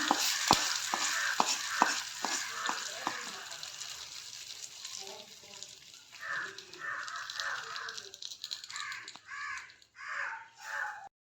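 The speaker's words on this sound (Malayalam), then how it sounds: "കടുക് വറുത്തത് തട്ടിക്കൊടുക്കണം." Fried mustard seed tempering poured into a coconut-roasted ginger curry: a quiet, crackling sizzle that settles into soft stirring and a few louder bursts near the end.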